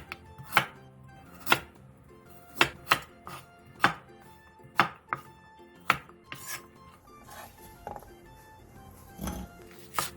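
A knife slices half an onion into strips and cuts carrot into chunks on a cutting board. The chopping comes as close, crisp, irregular thuds with short scraping pauses, and no one speaks.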